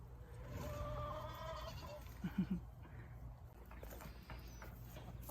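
A goat in a garden bleats in a quick run of three short calls midway, heard at a moderate distance over a low, steady outdoor background.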